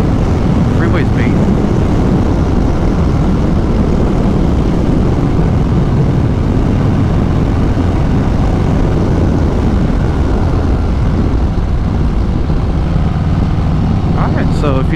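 A Harley-Davidson Sport Glide with a Cobra 909 slip-on exhaust cruises at about 70 mph on the freeway, a loud, steady low engine drone buried in heavy wind roar that barely changes throughout.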